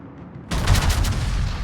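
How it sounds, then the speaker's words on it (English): Battleship secondary guns fire at an enemy destroyer in a naval video game, opening with a sudden loud burst and then a rapid rolling volley of close booming shots that continues to the end. "here I am engaging with the 4 Sherman with my secondary guns"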